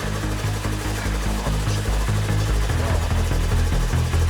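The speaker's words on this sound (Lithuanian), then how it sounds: "Čia truputėlį variklis vis tiek pašildytas" Warmed-up engine of a Segway Villain vehicle running steadily, a loud, close, pulsing drone with a regular throb that shifts pitch slightly toward the end, with no voices.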